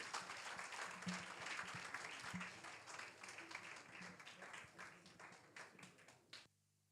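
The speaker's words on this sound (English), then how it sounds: "Please give him and welcome him with a huge round of applause." A conference audience applauds a speaker's welcome with steady clapping that slowly fades, then stops abruptly near the end.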